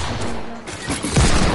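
Rapid bursts of video game gunfire crackle loud and continuous, swelling into a denser volley near the end, with a player's voice faintly mixed in.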